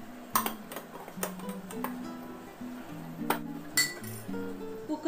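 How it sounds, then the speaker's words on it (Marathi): Steel tins of dal and rice flour stacked inside a pressure cooker and the cooker lid put on, making a series of sharp metallic clinks and taps, fairly faint, with quiet pauses between. "आता या डाळीच्या डब्यावर तांदळाच्या पिठाचा डब्बा ठेवून देत आहे आणि यावर झाकण ठेवून देऊ आणि कुकरला झाकण लावू।"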